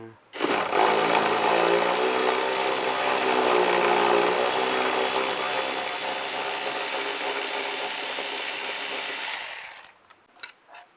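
Power tool with a T25 socket backing screws out of a 2004-2010 BMW X3 during shock absorber replacement, a loud continuous whirring ratchet drone running steadily for about nine seconds, then stopping with a few faint clicks.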